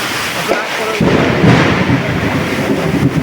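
A deep, sustained rumble of thunder rolls and swells, loud and close, with a broad roaring wash continuing throughout.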